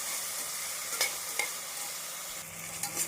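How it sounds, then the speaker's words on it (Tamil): Tomatoes sautéed with onions in a pan for vegetable biryani: a soft, steady sizzle with a few brief spoon scrapes while stirring, close and quiet. "நாம் தக்காளி சேர்த்து நன்றாக வெங்காயத்துடன் மசியும் அளவு வதக்க வேண்டும்."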